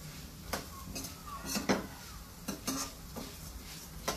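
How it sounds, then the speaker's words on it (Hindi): Rice and dry fruits roast in hot ghee for shahi kheer, with a spoon scraping and stirring the pan in irregular clinks and soft sizzling, fairly close and moderately quiet. "देखिए ये अच्छे से भून रहे हैं चावल।"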